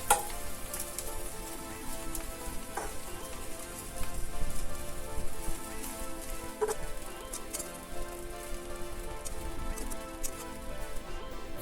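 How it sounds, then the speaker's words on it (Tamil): Sliced bread pieces frying in hot oil for bread masala, giving a steady, dense sizzle with faint crackles and an occasional soft scrape of stirring, close and continuous with no voices. "ஆயில் கொஞ்சம் ஹீட் ஆனதுக்கப்புறம் பிரெட் பீஸ், நம்ம ஸ்லைஸ் பண்ண பிரெட்டை வந்து இதில் ஆட் பண்ணிக்கலாம்."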